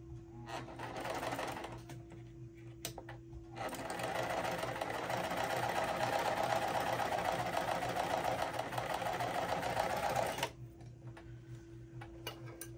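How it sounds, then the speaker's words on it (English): A sewing machine stitches two fabric pieces together in one continuous run while piecing a quilt block, with a steady close whirring hum that starts up, runs for several seconds and stops, leaving a faint background hum. "I'm gonna sew both pieces at once."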